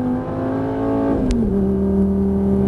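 A Lamborghini Gallardo at full throttle on a race track, its engine droning loudly and steadily, the pitch dipping briefly around a gear change before holding strong again.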